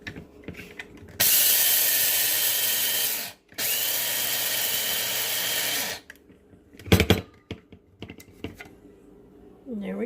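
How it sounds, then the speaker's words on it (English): A small electric grinder whirs loudly on flaxseed in two bursts of a few seconds with a brief pause between, followed by clicks and rattles as it stops and is handled. "So I'm going to put it in my grinder."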